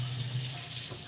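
A tap runs with a steady hissing stream of water, constant and fairly loud throughout, with a low hum beneath.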